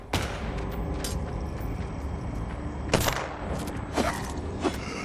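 Shotgun fire in the action game Descensus: a few sharp, loud blasts spaced irregularly over a low background din, with no talking.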